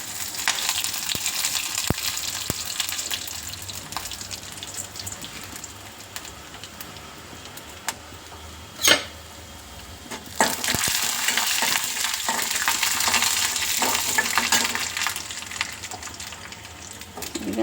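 Chana dal and urad dal fry in hot oil, a continuous close sizzle with crackling pops and occasional stirring scrapes, swelling louder toward the end.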